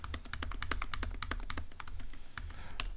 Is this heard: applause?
no